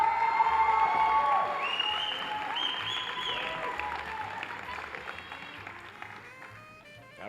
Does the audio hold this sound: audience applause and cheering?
yes